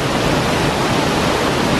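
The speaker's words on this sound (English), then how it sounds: "this is Bridal Veil Falls right here" Bridal Veil Falls in Oregon's Columbia River Gorge, a loud, steady broadband roar of falling water heard close by, continuous and unbroken with no voices.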